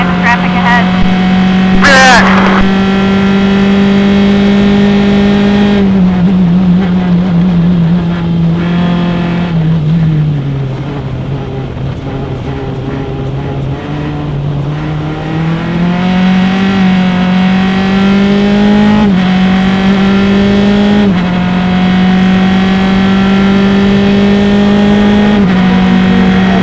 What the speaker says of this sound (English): Denny Sederi right behind him in that Super V Griffith, number 89